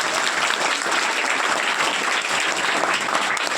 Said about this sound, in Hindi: एक बार जोरदार ताली हो जाए सभी के लिए